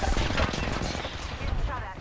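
Rapid gunfire from a competitive shooter video game fills the clip in dense, steady bursts, with faint voices mixed under the shooting throughout.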